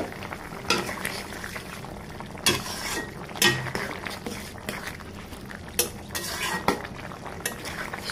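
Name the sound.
pot lid being lifted off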